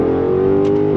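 Dodge Magnum with a new loud exhaust, heard as a brief, steady, loud engine drone from inside the car.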